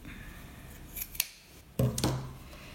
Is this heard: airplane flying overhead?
no